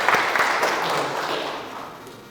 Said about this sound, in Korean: 우리 잠깐 일어나셔서 우리 박수로 한번 환영하겠습니다